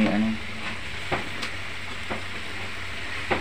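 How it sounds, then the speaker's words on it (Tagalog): Pork pieces fry in a pan ahead of a pork-and-mushroom stir-fry, giving a steady close broadband sizzle with a few sharp clicks and scrapes from stirring, and no voices. "Ipa-fry muna natin bago natin"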